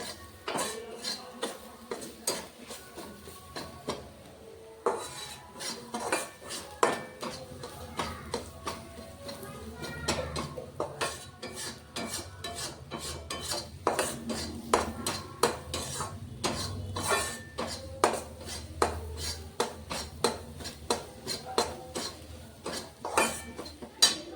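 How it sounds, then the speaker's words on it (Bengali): Ginger and garlic fry in a pan while a metal spoon stirs and scrapes, making frequent clinks and clatters over a faint sizzle, close and uneven in rhythm. "আদা রসুনের কাঁচা গন্ধটা চলে যাওয়া পর্যন্ত ভাজবো।"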